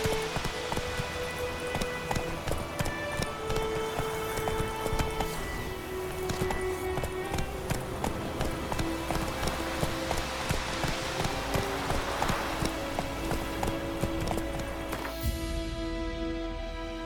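Roach the horse galloping in The Witcher 3: rapid, steady hoofbeats that continue throughout, mixed with dense game music and ambience that cut off sharply near the end.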